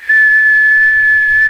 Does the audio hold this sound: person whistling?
yes